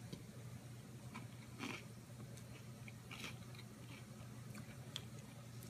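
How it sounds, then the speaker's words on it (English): Biting into a crispy churro coated in thick chocolate, a few faint crunchy bites and chewing sounds close up against a steady low background hum. "Do you hear that crunch?"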